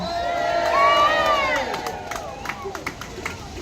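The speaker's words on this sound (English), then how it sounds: "Hold your banners up and cheer for anti-racism." A large crowd at an outdoor anti-racism rally cheers and whoops loudly, voices rising together and then trailing off into scattered claps and shouts.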